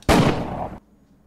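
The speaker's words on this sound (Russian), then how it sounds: "Выстрел!" A single sharp, loud gunshot in the visual novel game Everlasting Summer, with a short ringing tail that cuts off abruptly, followed by near silence.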